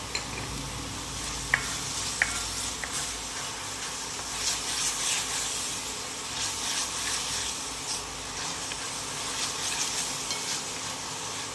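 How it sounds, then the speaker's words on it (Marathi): Onion with salt frying in a pan for dhaba-style sev bhaji, a continuous close sizzle under repeated scraping stirs and a couple of sharp utensil taps, with no one talking. "त्यात मी थोडं मीठ टाकून घेते त्यामुळे कांदा पटकन परतला जातो"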